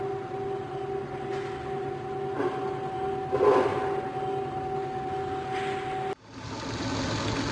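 A Hardinge precision toolroom lathe runs at 770 RPM, giving a steady, quiet hum with a clear sustained whine that holds level over several seconds, broken by a few faint shifts and a brief dip near the end.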